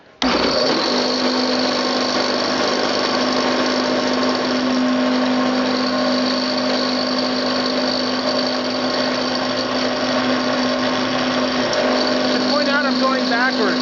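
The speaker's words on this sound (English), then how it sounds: "this time I'm going to do it with the drill, because doing it by hand is a pain in the neck." An electric drill cranks a rotary table during milling, giving a steady, loud motorized whirr that starts abruptly and holds at a constant pitch for the whole stretch.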